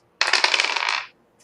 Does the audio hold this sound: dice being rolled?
yes